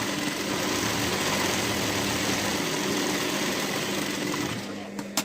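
A sewing machine runs steadily while topstitching a blouse, a continuous close mechanical whir at even speed for about five seconds before slowing and stopping at the end.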